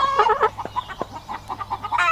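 Chickens cluck nearby on a Vermont farm in summer in short, repeated bursts, announcing a laid egg, with a few louder squawks at the start and steady low background hum.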